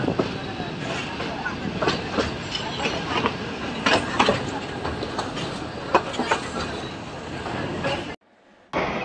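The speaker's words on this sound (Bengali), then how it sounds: "লোকাল ট্রেন খুবই ধীরে চলে" A slow Bangladeshi local train rolls along with a steady rumbling clatter and rhythmic wheel knocks, while people talk over the noise.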